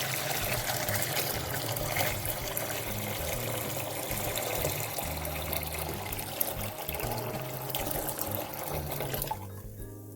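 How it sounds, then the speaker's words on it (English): Cold water poured from a gallon jug into a pot of turkey brine on a stovetop, a steady continuous splashing trickle lasting the whole stretch, close and fairly loud, with no talk. "I'm just going to add in 1 gallon of cold water."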